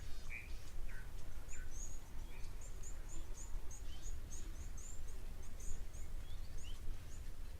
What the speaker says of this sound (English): Those coots, those water birds,